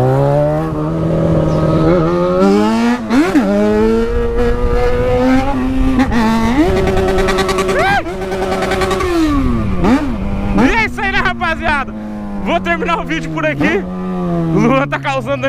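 A Yamaha XJ6 motorcycle with an aftermarket exhaust revs hard and repeatedly nearby, loud engine pitch climbing and falling in bursts with crackling on the overrun outside a nightclub entrance.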